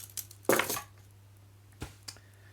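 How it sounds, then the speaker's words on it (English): A set of everyday-carry keys jingles and clinks close up: one loud metallic rattle, then a few lighter, separate clinks in a quiet room. "So that's the keys."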